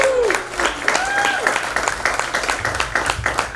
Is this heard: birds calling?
no